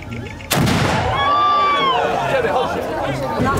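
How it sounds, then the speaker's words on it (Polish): A ceremonial cannon fires a single loud, booming shot to open the World Kashubian Congress festival outdoors, the blast echoing away over a murmuring crowd while people speak. "Rozpoczynamy nasze otwarcie od symbolicznego strzału armatniego."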